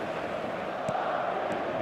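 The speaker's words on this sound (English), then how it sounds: "The stadium is full of noise and energy" A full stadium crowd in the football video game eFootball 2026 makes a steady, even roar of massed voices, with no clear speech on top.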